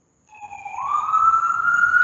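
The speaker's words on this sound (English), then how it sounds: "Sorry about the siren in the background." A siren wails in from silence, its tone sliding upward and growing steadily louder as it holds a sustained pitch, no talking over it.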